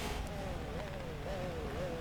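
Race cars in Forza Motorsport 7 at Suzuka give a steady, droning engine whine whose pitch wavers up and down as they run near full revs, continuous and moderately loud.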